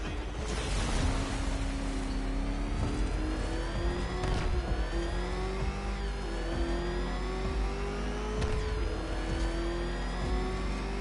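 Car engine in the video game Batman Arkham Knight revs hard and holds a steady high drone, with gear shifts and brief swells as it races along, loud and close and with no voices.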